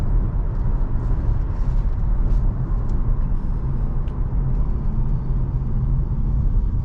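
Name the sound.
Ford Explorer Police Interceptor driving on the road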